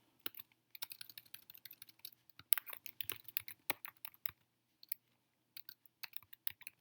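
Rapid bursts of keystrokes on a computer keyboard, irregular clusters of crisp clicks with short pauses, close and clear with no speech.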